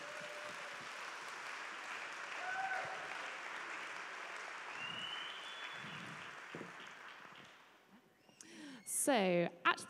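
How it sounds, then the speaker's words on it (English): Sustained applause from an audience fills the space for several seconds, fading toward the end as a voice begins talking. "Let's give a big round of applause to these amazing people."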